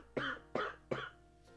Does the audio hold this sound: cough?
yes